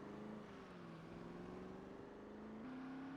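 A steady car engine drone with a slowly rising pitch in the video game Project Zomboid, quiet and continuous, with no voices.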